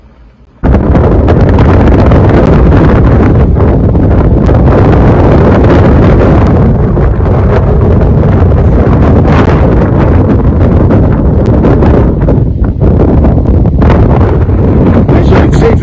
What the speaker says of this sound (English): at the moment it's 15 knots gusting to 30 knots, so it's too windy